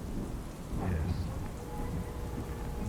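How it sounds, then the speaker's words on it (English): Heavy, relentless rain batters a window glass in a constant dense roar, with a low rumble beneath it like distant thunder, steady and close throughout with no voices. "watch the relentless rain batter the glass"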